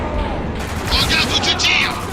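Gunfire in the video game Spec Ops: The Line: short bursts of shots and mechanical clatter crackle over a dense battle din, with voices talking through it.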